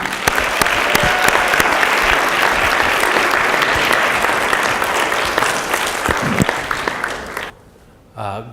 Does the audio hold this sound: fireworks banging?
no